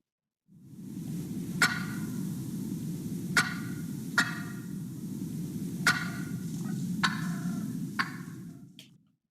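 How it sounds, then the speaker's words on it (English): Wild turkey cluck calls, six sharp, separate clucks spaced irregularly over a steady low hum, clear and fairly close, with no talking. "Up next is the cluck."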